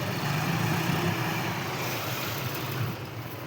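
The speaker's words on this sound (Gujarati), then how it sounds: "આ બીજું ટ્રેક્ટર લાગી રહ્યું છે" A second tractor pulls up beside a running thresher, its steady engine drone and thresher rumble forming a loud, continuous mechanical roar with no voices, easing slightly toward the end.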